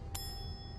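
A hotel desk bell in the video game Fallout 4 gives a single quick ring, a brief bright ding that fades fast over a low steady background hum.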